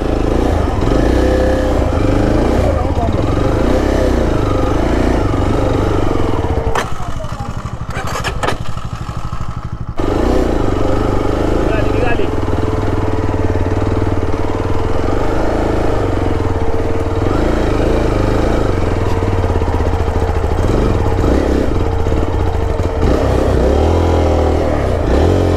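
A Yezdi motorcycle engine roars and revs hard while off-roading in mud over stones, loud and close for most of the stretch, briefly dropping and stalling before starting again and carrying on at a steady, labouring drone.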